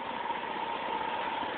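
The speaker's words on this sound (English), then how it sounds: "So you've got 3 videos of this engine running." A Vauxhall Senator's 3.0 24-valve C30SE straight-six engine idles at a steady 600 RPM on a test stand, giving an even, close mechanical hum with a faint regular tick and no talking.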